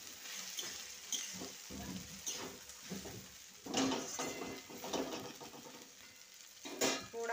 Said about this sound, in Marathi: अशी चटणी टाकून हलवून घेऊ